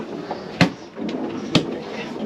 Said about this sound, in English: Should put that back on.